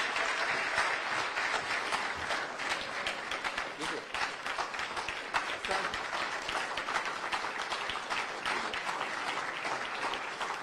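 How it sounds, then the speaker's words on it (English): An audience applauds a former Kenyan president at a formal address, a dense, sustained round of clapping that stays loud and even throughout. "A round of applause"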